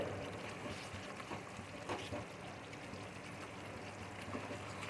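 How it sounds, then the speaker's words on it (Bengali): Half a cup of hot water pours into kadai butter chicken simmering in a kadai, making a soft, continuous, low watery rush with slight bubbling and no voices. "এবার আমি একটু এতে 1/2 কাপ গরম জল দিয়ে দিচ্ছি গ্রেভির জন্য।"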